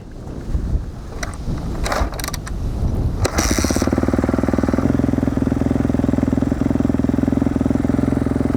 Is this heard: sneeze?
no